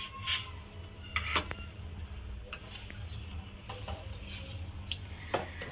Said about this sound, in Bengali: চাউমিন রান্না করছে দেখেছো